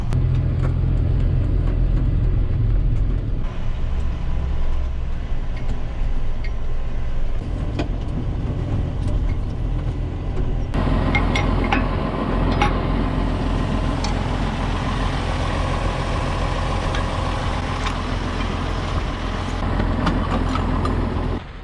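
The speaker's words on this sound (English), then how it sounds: "We'll use this same tractor. I'll back the sprayer in the shed and unhook it." A farm tractor backing a sprayer into a shed: a steady, close engine rumble and drone throughout, with no talk over it.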